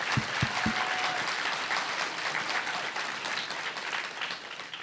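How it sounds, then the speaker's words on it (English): Audience applause at a LEAP Week 2019 talk; a full, steady wash of clapping from the crowd, with a few louder close claps at the very start, continuing without pause. "I'll pass your applause on to my doctors and the researchers who've made that possible"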